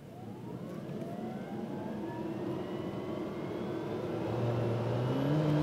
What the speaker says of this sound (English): They're going to turn the motor on pretty quick.